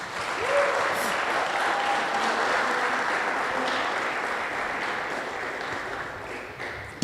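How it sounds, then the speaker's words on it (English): Steady applause from a church gathering for Deacon Danny, a dense, even wash of clapping that holds at one level for several seconds and then tapers off at the end. "Let's give him a round of applause."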